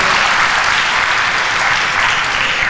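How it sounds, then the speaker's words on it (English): Audience applause at an English-language election debate, a dense, steady wash of clapping from a large crowd, loud and continuous without voices. "So let's applaud him for that as well."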